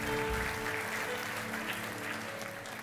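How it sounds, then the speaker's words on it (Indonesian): A congregation at Gibeon Church in Surabaya applauds steadily for nearly three seconds, a dense, even wash of clapping carried over sustained musical tones in the background. "Berikan tepuk tangan buat Tuhan Yesus."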